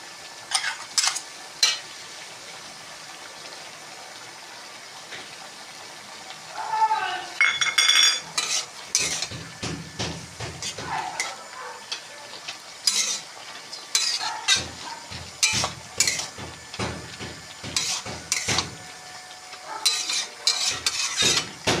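Mustard and poppy seed paste being stirred into cooking gourd stems, a spoon scraping and clinking against the pan in bursts of steady strokes, with a soft sizzle underneath and brief pauses between rounds.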